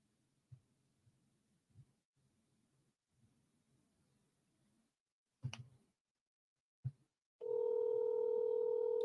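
A telephone's steady tone comes on loud and continuous near the end after a failed call, following faint low rumbles and a couple of thumps, with no talking.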